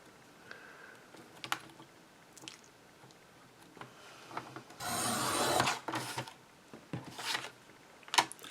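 Scissors cutting a recycled Christmas card, quiet snips and paper rustles spread across the clip with a longer scraping cut in the middle, close and faint.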